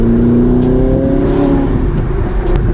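Manual Audi R8 with a V8 engine being driven, its loud exhaust producing a deep, continuous, heavy roar with a smooth rising pitch, close and constant throughout.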